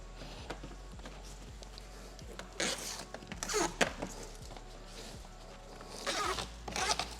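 Adhesive tape is peeled off a carbon fiber front apron on a Tesla Model 3 bumper, giving several short ripping bursts among quiet handling clicks and taps.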